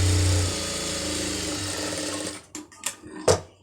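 A sewing machine runs fast and steadily while joining a blouse seam, then stops abruptly, leaving a few short handling clicks and knocks.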